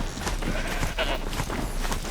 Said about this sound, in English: What's up, Mr. Goat?